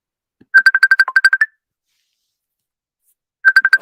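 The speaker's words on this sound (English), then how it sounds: "The phone is ringing." A phone ringtone playing two bursts of rapid electronic beeps, the first a quick run of about ten pulses and the second starting after a pause of about two seconds, loud and clear with no talk.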